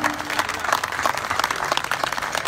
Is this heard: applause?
yes